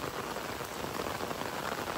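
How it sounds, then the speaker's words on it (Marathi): Heavy rain pours down in a forest beside a lake, a dense, even hiss of drops hitting surfaces, close and continuous with no breaks. "पावसाचा आवाज जास्त आला आहे. पाऊस वाढला पण आहे."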